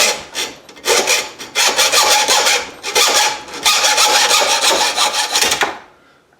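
A hand saw cuts through the end of an old meat grinder lamp tube clamped in a vise with a bit of wood, rapid rasping strokes in a steady back-and-forth rhythm, loud and close, stopping near the end.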